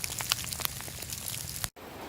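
Steady patter of rain with scattered drops tapping close by, then an abrupt cut to a quieter background.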